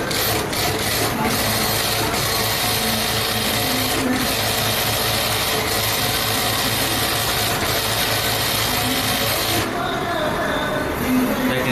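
A Kansai Special DFB-440P industrial multi-needle sewing machine stitching fabric, a loud continuous rapid mechanical chatter running steadily close by with slight shifts near the end.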